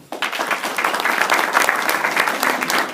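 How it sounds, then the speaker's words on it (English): Applause from the audience at a male empowerment brunch fills the room, a steady round of many hands clapping that starts abruptly and holds at an even level, with a faint voice underneath. "Y'all give them a round of applause"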